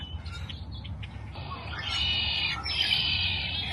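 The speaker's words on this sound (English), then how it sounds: "these birds are all around here" Birds chirp in a riverside park along the Platte River, faint at first and then a brighter, steady stream of high calls over low background rumble.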